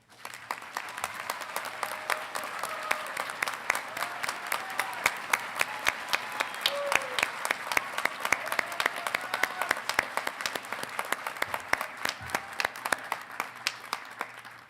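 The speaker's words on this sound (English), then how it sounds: "I invite all first-generation graduates, faculty, and staff to please stand and be recognized as we applaud your success" A commencement audience applauds first-generation graduates, faculty and staff with a long, steady round of clapping, many hands close and distant blending into an even, sustained patter.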